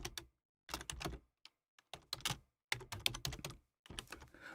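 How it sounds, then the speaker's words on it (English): Typing on a computer keyboard during a live stream, heard as bursts of rapid clicky keystrokes separated by short pauses, close and moderately loud with no talking. "I'm typing here"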